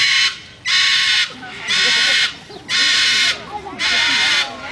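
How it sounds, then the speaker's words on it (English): A pet Moluccan cockatoo screams indoors, four long, piercing, very loud calls of about half a second each, evenly spaced with brief gaps, close by. "the most challenging aspect of sharing your home with a parrot is their loud voice"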